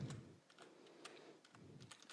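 Keys clatter in short, quick bursts on a computer keyboard as a few characters are typed, close and fairly quiet, with brief gaps between the taps.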